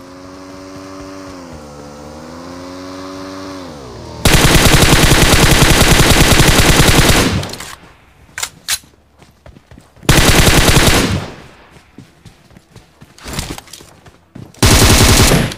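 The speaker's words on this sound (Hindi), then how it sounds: "अब मैं खुद को एक कवर फायर देके आगे बढ़ रहा था" Gunfire lays down cover fire in the mobile shooter BGMI: loud rapid automatic bursts come in several separate volleys, with a droning engine-like hum before the first burst.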